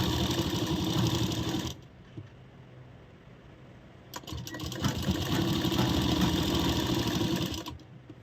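Sewing machine stitching a blouse lining: a steady, fast mechanical whir of stitching, a pause of about two seconds with faint handling noise, then a second longer run of close, even stitching.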